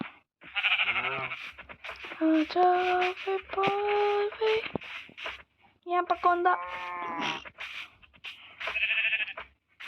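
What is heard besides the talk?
sheep bleating in Minecraft video game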